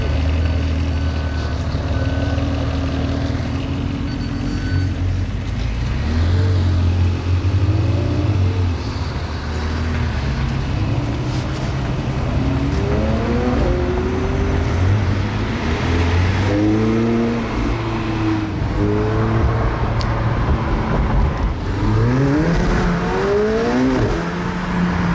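Several car engines rumble and rev as vehicles pull away in a convoy one after another from a Paris car park, rising and falling in pitch, with a reversing beep sounding nearby.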